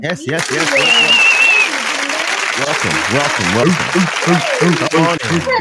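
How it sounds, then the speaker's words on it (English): A crowd-cheering sound effect roars loudly and continuously with applause-like noise, while voices talk over it throughout. "The crowd goes wild."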